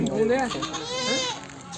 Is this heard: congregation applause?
no